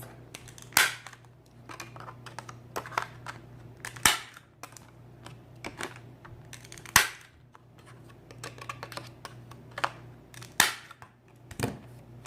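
A corner rounder punches the corners of a small washi tape card, giving a series of sharp clicks and snaps spaced a second or two apart over a steady low hum, close and fairly quiet.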